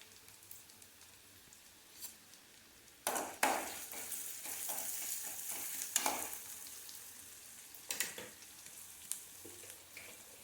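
Ingredients sautéing in a pan, with faint crackle at first, then louder bursts of sizzling and scraping from around three seconds, coming in uneven waves with sharp stirring clatters, close by and with no speech.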